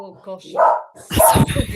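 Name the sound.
dog barking at someone at the front door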